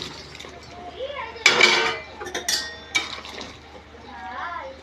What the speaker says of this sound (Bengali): ঝোলটা ফুটে উঠেছে, এবার ধোকাগুলো দিয়ে দেবো